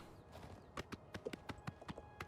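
Horse hooves clip-clopping in the video game The Elder Scrolls IV: Oblivion Remastered, a quick regular trotting rhythm of about a dozen hoof strikes, fairly close, over a faint ambient hum.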